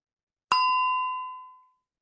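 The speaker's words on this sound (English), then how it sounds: "at the end of the minute, a bell will sound" A single bright electronic ding marks the end of a one-minute student reading test, striking once cleanly and ringing out with a long, smooth decay in otherwise total silence.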